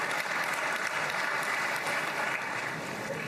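An audience claps for Witkoff, sustained dense applause from many hands at an even level for a few seconds, with no voices over it.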